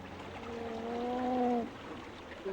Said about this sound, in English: that is the sound of an angry giant salamander